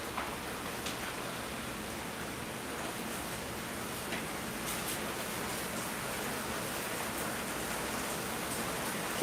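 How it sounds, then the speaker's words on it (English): Steady rain falls outside an open front door in the early morning, a constant soft hiss of drops that runs evenly throughout without talk. "I'm going to open my front door because I like to listen to the sound of the rain."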